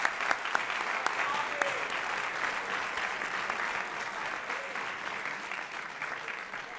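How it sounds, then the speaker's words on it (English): A school audience applauds the prefects at a pinning ceremony, with steady, dense clapping that holds at an even level for the whole stretch and has a few sharper claps standing out near the start. "Round of applause for them."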